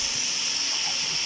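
Water is poured into frying masala for a vegetable pulao, giving a brief, loud hiss and sizzle as it hits the hot pan.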